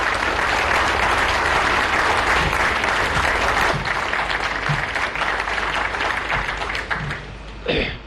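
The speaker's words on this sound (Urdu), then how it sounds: "آپ سب کی بھرپور تالیوں میں" Sustained, loud audience applause greets Pakistan's Prime Minister Shahbaz Sharif at a formal government event, a dense wash of clapping that holds steady for about seven seconds before thinning out near the end.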